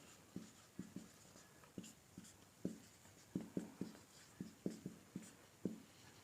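Chalk or marker taps and strokes on a board during a lesson, a faint series of short, irregular scratchy knocks with no voices.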